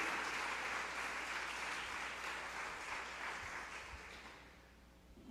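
A church congregation applauds during a Sunday evening service, with dense sustained clapping from a large crowd that slowly fades out over about five seconds.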